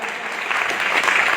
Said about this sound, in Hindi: ऐसी तालियां देगा,